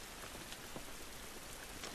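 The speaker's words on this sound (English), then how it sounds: "So it's raining" Steady rain falls outdoors in the video game The Last of Us, a continuous even hiss of drops on surfaces with no voices, holding at a constant moderate level throughout.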